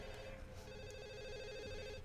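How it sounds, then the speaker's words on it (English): Telephone ringing in The Sims 1 video game, a steady electronic ring sustained across the whole moment at even loudness, heard alone without talk. "Answer the phone."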